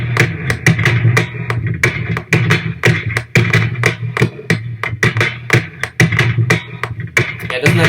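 A garlic cup banged on a metal plate, processed with heavy added bass and reverb: a steady series of booming, resonant hits in a loose rhythm, loud and alone.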